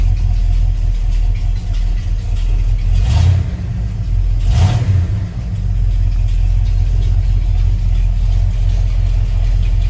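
A car engine that is neither hot nor cold is started and settles into a steady, close idle with two brief rises in revs, heard on its own with no talking.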